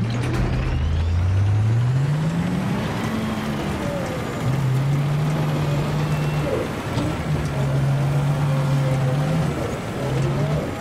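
A jeep drives in Battlefield 3, its engine droning loudly and steadily, rising in pitch, then settling and shifting through gears against a constant rumble of road noise.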